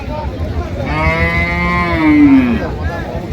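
A dairy cow at a crowded rural cattle market gives one long, loud, close moo that swells and then drops away, with a low murmur of the crowd underneath.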